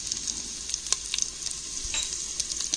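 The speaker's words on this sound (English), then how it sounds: "A quick stir." Green chillies sizzle and fry in hot ghee in a pot while being stirred, giving a steady close hiss broken by small crackles and a few scraping taps of the spoon.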